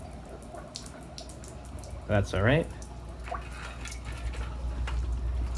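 A spawning mop is lifted from a fish tank and shed water patters and splashes steadily, with a brief louder splash, while a person speaks briefly nearby.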